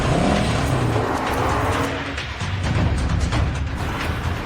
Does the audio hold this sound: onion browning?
no